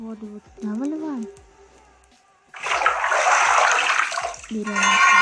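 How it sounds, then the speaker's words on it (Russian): Water poured out in a video game, a loud gushing splash lasting about two seconds after a game tone, then another tone, with someone speaking briefly before it. "Воду вот сюда выливаем."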